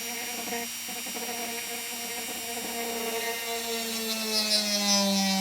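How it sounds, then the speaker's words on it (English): A drill bores into a nguru, a small Māori flute: a steady motor whine with a strong buzzing tone that holds level and shifts slightly in pitch near the end, alone and moderately quiet. "just let the tuawiri, the drill, do the work, and just guide it gently in till you reach the chamber"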